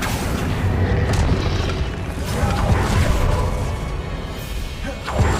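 A Confringo fire spell blasts in the video game Hogwarts Legacy, a loud, dense booming explosion that rumbles continuously through the whole moment with crashing bursts layered on top.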